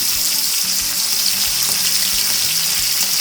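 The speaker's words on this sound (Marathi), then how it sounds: "आता आपण शाबदाना फोडणी देऊया हिरवी मिरची घ्यायची" Continuous loud hiss of green chilies frying in hot tempering oil, a dense sizzle with faint low clinks of a spoon beneath, no talking.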